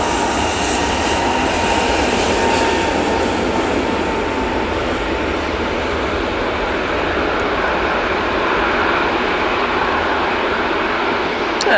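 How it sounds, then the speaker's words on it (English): An Airbus A321neo departs Manchester Airport with a loud, sustained broadband engine roar that holds steady throughout, a faint tone running through it. "And there goes 321 Neo."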